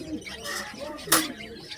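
Soft coos of Giribaz pigeons come from close by in a pigeon shop, broken by a brief sharp flutter partway through.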